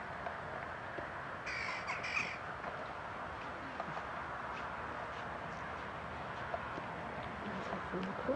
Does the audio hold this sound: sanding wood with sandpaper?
no